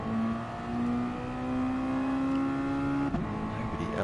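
A Mazda MX5 race car engine revving during a Modi-5 Cup race at Kirkistown, a loud sustained engine note climbing steadily in pitch, then dropping sharply near the end as the driver shifts.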